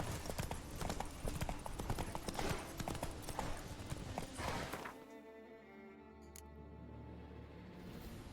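Roach the horse in The Witcher 3 clops along with steady hoofbeats for about five seconds, dense and close, then they fade away, leaving a quieter ambient hum and faint tones.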